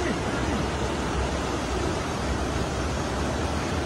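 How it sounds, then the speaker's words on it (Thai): A waterfall rushes at a family outing spot in Thailand, a continuous broadband roar that stays steady and fairly loud throughout, with no voices standing out. "ด้านบนเป็นน้ำตกครับ"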